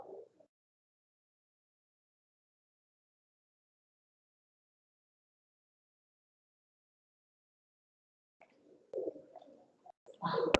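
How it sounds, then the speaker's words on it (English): Pigeons coo faintly. A brief low call comes at the start, then a long silence, then a few soft coos close together at the end. "These pigeons are making my life miserable."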